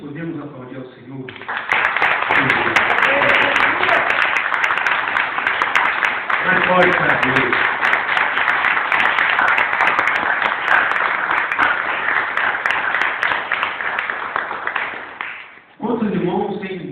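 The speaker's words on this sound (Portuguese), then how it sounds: "Podemos aplaudir ao Senhor." A church congregation claps in sustained applause during a Sunday service, a dense broad wash lasting about fourteen seconds, with a voice speaking before and after and faint talk over it.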